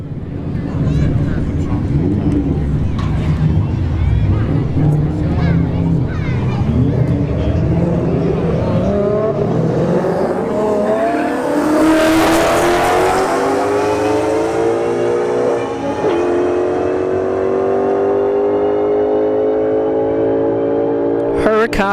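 A Lamborghini Huracan and an S197 Mustang launch side by side at a drag strip, their engines building from a rumbling idle into a loud, rising, high-revving roar that sweeps past and fades, with an announcer talking over it.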